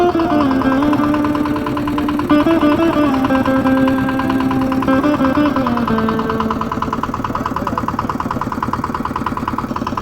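A boat engine drones loudly and steadily on a river with strong current near the Lalon Shah Bridge, a continuous close hum that shifts slightly in pitch throughout.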